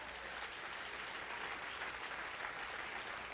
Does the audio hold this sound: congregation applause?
yes